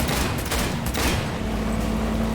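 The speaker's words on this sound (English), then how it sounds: "it's weird how many times you can shoot these guys and it doesn't really seem to hurt them" Rapid gunfire from a shootout in the video game Cyberpunk 2077, a dense burst of shots running steadily under a continuous background roar.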